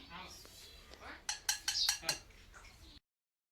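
A new pressure cooker is unpacked and handled, giving a quick cluster of metallic clinks and knocks of the lid and pot, quiet and close, with a little talk behind.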